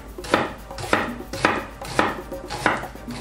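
A knife chops through half an onion on a cutting board in five firm, evenly spaced strokes, each a sharp thud with a crisp snap, close and alone with no talk.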